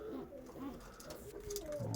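A Polish Mewka pigeon coos close by, with a few soft low warbling calls in quick succession, while someone speaks quietly in the background.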